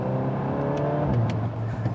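Engine of a Volkswagen Golf R 20 Years edition, with its exhaust, hums and revs in a steady sustained drone, near and fairly loud, with no voices.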